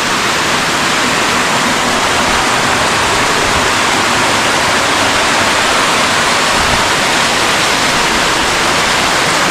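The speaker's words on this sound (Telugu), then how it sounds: "మొత్తం వాటర్ ఫాల్లోకి వెళ్ళి మనం వెళ్ళాలి. పిచ్చి ప్రెజర్ కూడా వస్తున్నాయి వాటర్." A high-pressure waterfall pours in heavy monsoon rain at Visapur fort, a loud, steady, dense roar that fills the whole stretch without letup, close by and with no voices.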